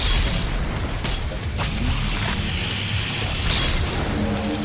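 Loud, continuous action from the video game Doom, with heavy booms, crashes and whooshing bursts packed densely together and no pause.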